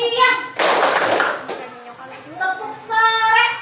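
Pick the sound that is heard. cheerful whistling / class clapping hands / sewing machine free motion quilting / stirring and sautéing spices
class clapping hands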